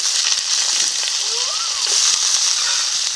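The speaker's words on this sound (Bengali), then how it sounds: "রাঁধুনি ও রসুনটাকে হালকা ভেজে নিয়েছি এখন দিয়ে দিচ্ছি আলু" Potatoes go into hot oil with lightly fried radhuni and garlic, giving a loud, close, steady sizzling hiss. Brief voice sounds rise over the frying.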